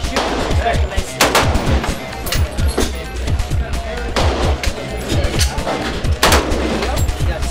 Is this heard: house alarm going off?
no